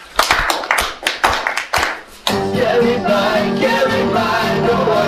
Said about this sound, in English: Clap your hands and do the dance.